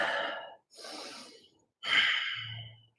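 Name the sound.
big deep breath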